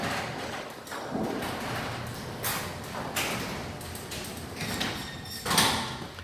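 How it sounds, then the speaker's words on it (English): An electric garage door opener runs with a low steady rumble, broken by soft clunks and a louder thump near the end. "And there's the electric garage door opener."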